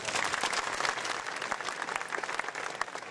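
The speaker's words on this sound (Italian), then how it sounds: "caloroso applauso" Warm audience applause at an amateur theatre company's performance, dense clapping from a crowd that stays full and lively throughout, with a few sharper claps standing out.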